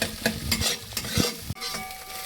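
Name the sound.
eggs frying in a pan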